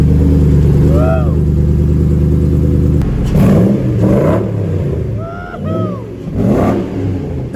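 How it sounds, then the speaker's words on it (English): A Cadillac V8 supercar engine idles with a steady low rumble, then revs up in several loud, rising bursts, heard up close with voices speaking over it. "This one is a Cadillac V8."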